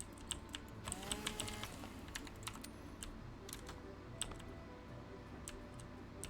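Steady typing on a computer keyboard, fast clicky keystrokes close by and fairly quiet over a low background hum, with no voices.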